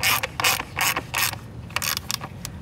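A hand ratchet clicks rapidly while tightening manifold bolts during installation of an oil catch can on a Ford Focus ST, with several close bursts of crisp pawl ratcheting separated by brief pauses.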